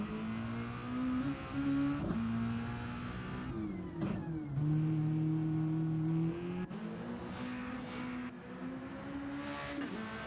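A race car at a GTRC Red Bull Juniors round on a racetrack, its engine revving loudly and climbing through repeated rising pitch sweeps between gear changes, with brief drops as it accelerates past close by.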